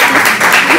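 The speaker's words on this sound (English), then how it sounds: "Give them a big round of applause." A brief, close burst of dense clapping from a group at a student housing meeting, lasting under a second.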